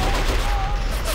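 A short stretch of dense, continuous gunfire rattles through a battle in the video game Men of War: Assault Squad, a steady barrage of overlapping shots with a faint thin tone running beneath it.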